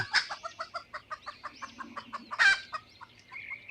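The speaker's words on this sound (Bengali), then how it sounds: "মুরগি গাছে উঠতেছে" A hen clucks over and over in a village yard while climbing a tree, in an even rhythm of short nearby calls with one louder flurry midway.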